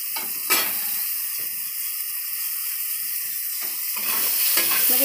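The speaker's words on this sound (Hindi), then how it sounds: "इसको फ्राई होने देते हैं, बस 2 मिनट के बाद इसको हम निकाल देंगे।" Jackfruit fries in a pan for a Bihari-style kathal sabji, giving a steady close sizzle with occasional stirring scrapes and clinks, heard alone with no talking.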